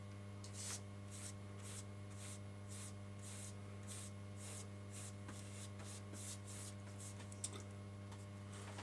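An aerosol can sprays paint over N gauge model railway platforms in a series of short, faint hissing bursts against a low steady hum, closely miked and without talk.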